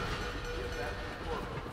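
A train rumbles past with a steady rolling clatter in the video game Dishonored, fairly faint and continuous.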